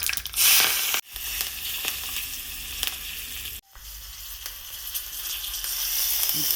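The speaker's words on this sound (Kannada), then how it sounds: "ಇವಾಗ ಒಂದು ಸ್ವಲ್ಪ ಕರಿಬೇವಿನ ಸೊಪ್ಪನ್ನ ಹಾಕ್ತಾಯಿದ್ವಿ." Curry leaves hit hot oil already popping with mustard seeds, tempering for a buttermilk ash gourd curry: a loud, steady crackling sizzle fills the clip, broken by two brief cuts, with no voices.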